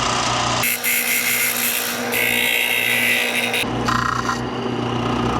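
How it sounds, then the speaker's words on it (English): A power sander roughs a wooden 4.5-inch musky lure blank to shape, a loud steady whine that changes tone as the wood is pressed on and lifted off, in short sustained passes. "I'm going to rough sand it to shape"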